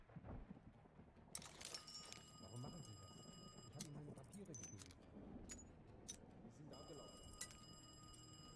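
An apartment telephone rings in Black Ops Cold War, with two long bursts of a bright, shrill electronic bell separated by a pause, heard over low background noise and a speaking voice.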